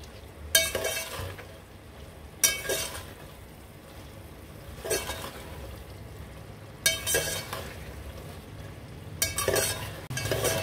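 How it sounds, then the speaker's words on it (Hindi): Chickpeas stir-frying in oil in a pan for chickpea rice, a steady sizzle under repeated scraping stirs with a few louder clinks of the spoon against the pan, close and alone with no talk. "चने देखिए हमारे माशाल्लाह कितने अच्छे तरीके से भून गए और ऑयल देखिए सारा सेपरेट हो गया है चनों से"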